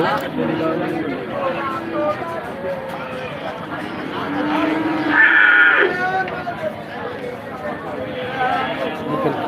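Friesian cow mooing at a crowded cattle market, one drawn-out low call heard over continuous crowd chatter and talking voices.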